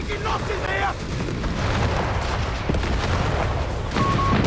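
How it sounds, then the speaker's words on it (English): An artillery barrage lands in the Company of Heroes 3 real-time strategy game, with heavy booming impacts and rumbling blasts layered over continuous battle noise. A commentator talks over the shelling. "Artillery barrage on this building coming in."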